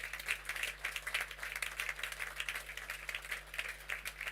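A standing audience applauds at an Access Holdings PLC corporate presentation, steady dense clapping filling the hall for several seconds at moderate distance without talk.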